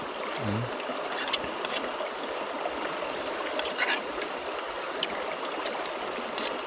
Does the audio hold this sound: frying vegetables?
no